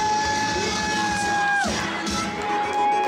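A large crowd at a wrestling event roars and cheers loudly throughout, a noisy mass of voices with no distinct words; a steady tone cuts off partway through.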